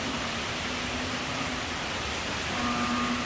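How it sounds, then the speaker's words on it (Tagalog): Steady hiss of rain falling outdoors during Typhoon Paeng in Rizal amid strong wind, a dense continuous wash with no voices. "bumabagsak-bagsak ng ulan"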